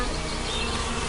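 Tiny bees defending a hive buzz in a dense, continuous swarm, a loud, steady hum filling the whole moment.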